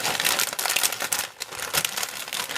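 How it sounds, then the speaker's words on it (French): A bag of crisps, tartiflette flavour, crinkles continuously up close, giving a dense, papery rustle that swells and dips without pause. "Désolée pour le bruit. Des chips."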